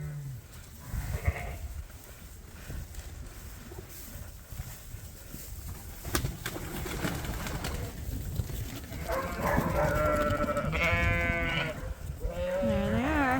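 Icelandic sheep bleat several times over a noisy farmyard background, the calls growing louder and more frequent in the second half.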